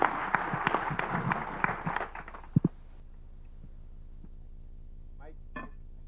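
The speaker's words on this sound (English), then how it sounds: "Once again, let us give the panel an applause." Audience at a youth dialogue session of the 21st AMECEA assembly applauding a panel, a dense burst of clapping for about two seconds that stops with a couple of sharp claps, then a quiet room with brief voice sounds.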